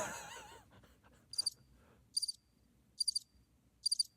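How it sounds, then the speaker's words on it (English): Cricket chirps played from a soundboard, four short evenly spaced bursts of high trilling, clear and isolated in near silence after a brief trailing voice at the start. "Are the crickets sad? That's the best I got on the soundboard right now."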